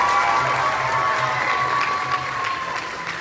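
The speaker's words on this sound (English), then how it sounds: "Big round of applause." Steady applause from a high school summer concert audience, clapping fairly loud and continuous throughout with a faint crowd murmur, no speech over it.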